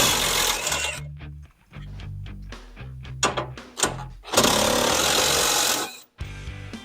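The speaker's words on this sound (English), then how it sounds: "We use a 15mm socket on the impact. We'll remove the 4 bolts here to gain access." An impact wrench with a 15mm socket zips out four bolts from a Ford Super Duty bumper support bracket, giving loud rattling bursts separated by brief pauses and clunks.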